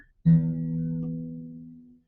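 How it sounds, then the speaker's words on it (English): A single plucked acoustic guitar string rings out with a steady low tone, resonating in the body and sustaining for nearly two seconds before fading, heard alone. "And when I pluck the string, that sound echoes around in there and sort of gets bigger"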